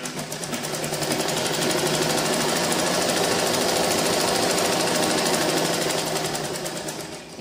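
A sewing machine stitches pieces of a girl's frock at a butterfly puff sleeve, running in one continuous, fast, rhythmic whir that is loud and close for several seconds before slowing at the end.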